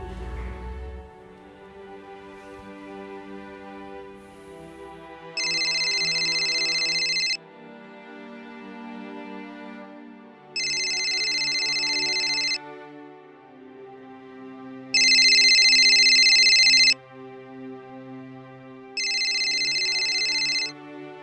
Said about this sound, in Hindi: हाँ उसको कॉल करता हूं।